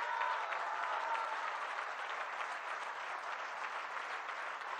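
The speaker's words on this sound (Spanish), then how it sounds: "por eso un aplauso a los migrantes" A crowd at a public works handover ceremony in Puebla applauds migrants, a steady wash of many hands clapping, heard at a moderate distance and even throughout, with no talk.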